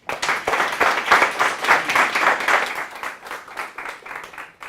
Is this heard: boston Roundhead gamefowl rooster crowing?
no